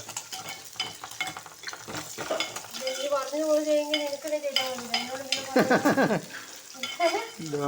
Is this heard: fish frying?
yes